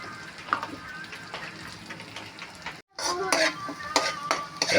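Garlic sautés in a pan for picadillo with a steady sizzle and stirring scrapes. After a brief gap the frying returns louder and brighter.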